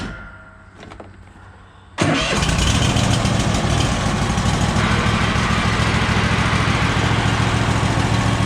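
A small Power Ease gasoline engine cranks with a few short pulls, then fires up abruptly and settles into a steady, loud idle that runs on continuously.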